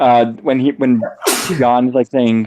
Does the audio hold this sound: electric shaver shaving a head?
no